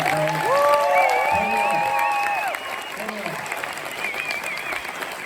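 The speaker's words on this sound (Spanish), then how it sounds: "Una fuerte aplauso." Applause from an audience at a talk on the history of 31 Minutos, sustained clapping heard beneath overlapping voices and tonal sounds, fading somewhat after a couple of seconds.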